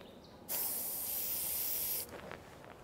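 An airbrush sprays face paint in one steady, loud, breathy hiss lasting about a second and a half, starting and cutting off sharply, with quiet room sound before and after.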